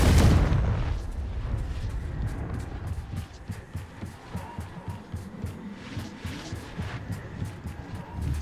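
Confringo blasting spell cast in the Hogwarts Legacy game on PS5, a heavy booming burst up front followed by a rumbling, throbbing run of repeated thuds and crackles that fades only slightly over several seconds.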